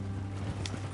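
Horse hooves clip-clop steadily in a PS4 video game, a quick, even rhythm of hoofbeats heard up close against constant game background sound.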